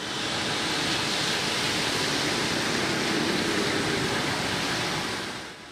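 Floodwater rushing from an overflowing city storm drain after rain, a loud, dense, unbroken roar of churning water that holds steady throughout and eases off only at the very end.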